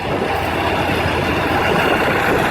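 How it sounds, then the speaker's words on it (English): At a tank show, a tank's 7-cylinder air-cooled radial engine runs as a loud, steady, close rumble with a dense low roar and no pauses. "They're powered by a 7-cylinder air-cooled radial engine."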